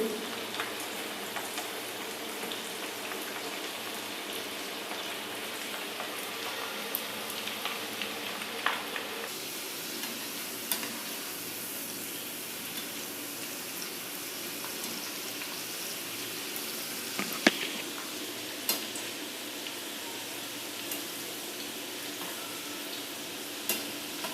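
Potato french fries deep frying in hot oil give a constant, soft crackling sizzle, fairly faint and steady throughout, with occasional small pops and clinks and no talking.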